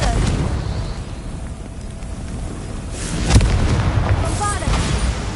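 A Bombarda spell explosion in a Harry Potter video game, a muffled boom swelling over a noisy game background, followed by smaller bursts and magical shimmer.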